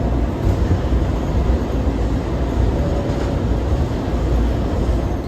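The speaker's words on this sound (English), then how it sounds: "we're on the Orange train now" Old DC Metro Orange Line railcar riding, a loud, continuous low rumble and rattle of wheels on track heard from inside the car, steady throughout with no talk.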